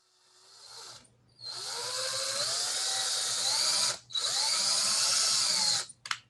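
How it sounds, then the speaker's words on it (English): A power drill whines in two long bursts drilling pilot holes for a bee hotel, separated by a brief pause, close and loud, its pitch shifting slightly as it bites in. "I'm going to go ahead and drill in my pilot holes."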